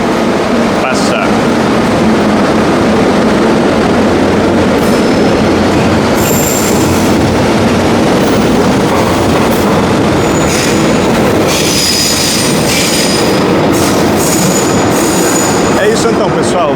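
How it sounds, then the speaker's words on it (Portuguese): A train rolls past up close on a daytime street in Leblon, Rio de Janeiro, with loud continuous rumble and clatter of wagons plus brief wheel squeals over about seventeen seconds, under a steady wash of noise. "vou esperar o trem passar"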